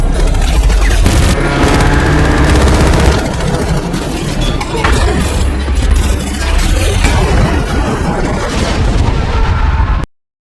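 Loud, dense gunfire and booming impacts fill a dramatic night action scene from a Purge film, continuous and chaotic with shouting voices mixed in, ending abruptly.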